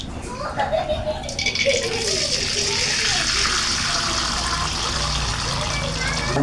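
Hot oil poured over frying kue cucur batter splashes and sizzles loudly in a continuous rushing hiss, with brief bubbling crackles at the start.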